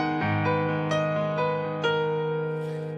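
Piano playing a guitar lick from a rock song, a short melodic line of single notes struck one after another over sustained ringing tones, close and clear with no talking.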